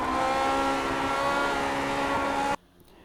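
A Lotus 49 race car in the iRacing game screams at high revs with a dense, steady engine tone, then cuts off sharply as the driver lifts to shift up into fifth, leaving near silence.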